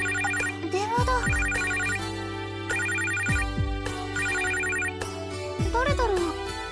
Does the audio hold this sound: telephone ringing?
yes